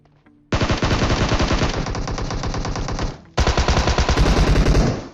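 Rapid automatic gunfire from a battle royale video game, two long loud bursts of close machine-gun fire separated by a brief pause, with no talk.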